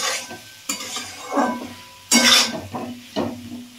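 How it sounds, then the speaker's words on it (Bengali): Ground spices with coriander, turmeric and salt fry in a pan, bursts of sizzling and scraping stirs recurring in uneven strokes, close and fairly loud. "এটা দিয়ে মশলাটা একটু ভালো করে কষিয়ে নেব।"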